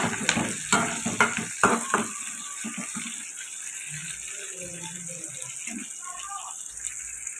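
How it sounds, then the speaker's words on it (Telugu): Onions and green chillies frying with curry leaves in a pan, sizzling and stirred in a few loud bursts at the start, then settling into a quieter steady hiss with occasional clinks. "ఉల్లిపాయలు ఇలా ఫ్రై అవుతాయి"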